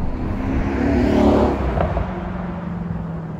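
A 2019 Mercedes-AMG SL63 roadster driving, its engine note swelling to a broad rumble around the middle and then settling into a steady, smooth cruising drone.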